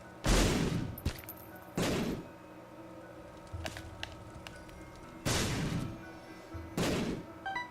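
Bombs exploding in The Binding of Isaac video game, four loud, sharp blasts spaced a second or more apart, with softer thumps and clicks between them.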